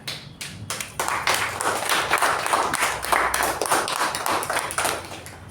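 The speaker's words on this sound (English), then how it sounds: "please give a huge round of applause to our Toastmaster Raja" Audience applause at a Toastmasters club meeting, welcoming the Toastmaster: dense, steady clapping from a roomful of people, close and fairly loud, continuing throughout without any speech.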